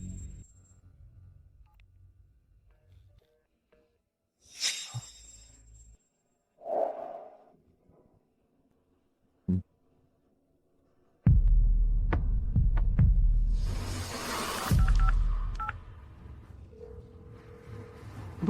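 Touch tones sound as a phone number is dialed, giving short distinct beeps spaced apart in a quiet room. Louder rumbling noise follows later.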